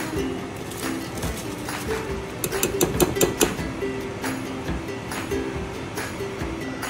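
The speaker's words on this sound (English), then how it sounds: "Water is boiling" Water boils steadily in a pot for biryani rice, a continuous close bubbling hiss with a few brief clinks partway through.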